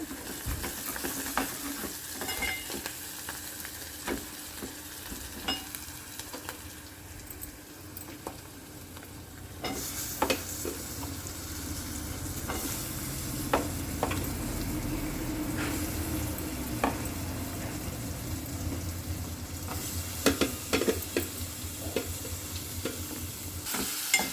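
Fenugreek leaves frying in a pan make a steady crackling sizzle, with repeated sharp scrapes and taps as they are stirred throughout.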